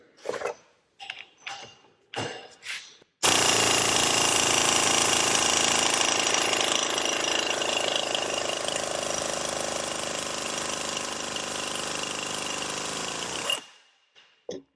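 A 3/8-inch impact wrench on a full air compressor hammers continuously and loudly for about ten seconds, following several short separate bursts at the start, with no talk over it.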